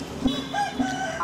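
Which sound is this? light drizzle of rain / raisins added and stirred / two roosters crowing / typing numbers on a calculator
two roosters crowing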